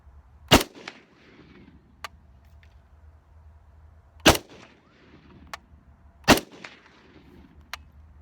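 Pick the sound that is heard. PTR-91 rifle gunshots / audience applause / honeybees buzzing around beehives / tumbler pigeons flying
PTR-91 rifle gunshots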